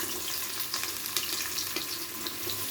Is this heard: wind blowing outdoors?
no